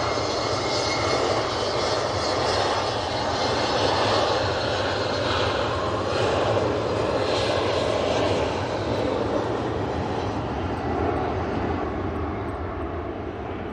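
Helvetic airliner departing Manchester Airport in a storm, its engines a steady, loud, broadband roar that holds throughout, with wind noise mixed in and no talk.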